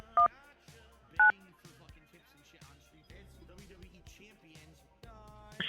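Telephone keypad tones enter a zip code, two short distinct beeps early on, followed by an automated voice speaking over a quiet line.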